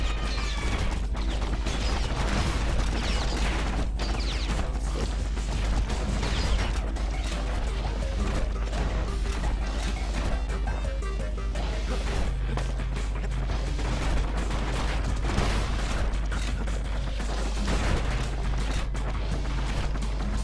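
Gunfire in the Bastion video game rattles in dense mechanical bursts and crashes over a constant low drone and game music, loud and continuous throughout.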